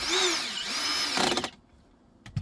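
Cordless power drill set to its lowest torque setting whines up and down for about a second and a half, then cuts out, with a faint knock at the end; close and alone.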